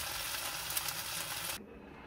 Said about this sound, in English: I'm just going to put them straight in the pan